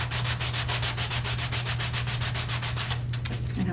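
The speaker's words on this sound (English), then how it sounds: "I use the emery board." A medium-grit emery board rubs back and forth across painted craft edges in quick, even strokes, a steady close scratching rhythm of about twenty passes that thins out near the end.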